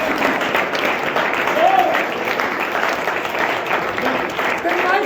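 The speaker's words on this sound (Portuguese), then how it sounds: "vamos aplaudir o Senhor" A church congregation claps for the Lord, a continuous burst of applause carrying on under a preacher's amplified voice as he keeps talking.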